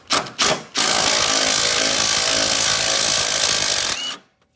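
A power tool, likely an impact wrench, spins out 14mm motor mount bolts on a 2006 Scion during an alternator replacement, a loud continuous whirring burst of over three seconds after two brief blips.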